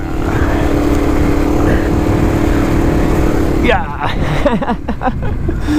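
Steady engine drone of a Yamaha TW200 motorcycle while riding, loud and continuous for most of the clip, then easing off as someone speaks briefly near the end.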